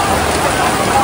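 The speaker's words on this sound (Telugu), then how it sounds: "ఇలాగ అన్నానో లేదో అలాగ వర్షం దంచేస్తుంది" Heavy rain pours down in Bangkok during the Songkran festival, a dense, steady wash of broadband hiss filling the short stretch without let-up.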